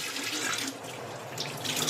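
Water runs steadily from a tap while a damp cloth is rinsed and cleaned of soap beside an induction cooktop, a close continuous rush with faint splashing, no talk.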